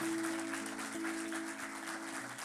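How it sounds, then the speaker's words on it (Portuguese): A congregation at a Portuguese-language church service claps together after a Gospel reading, a soft, steady patter of applause over a sustained low musical tone. "Vamos aplaudir esta palavra do Senhor"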